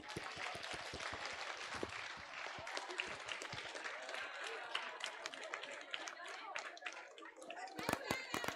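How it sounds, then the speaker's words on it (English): Scattered audience clapping at an education and leadership congress, uneven sharp claps from a modest crowd mixed with children's voices and chatter, with a louder burst of claps near the end. "You can be clapping."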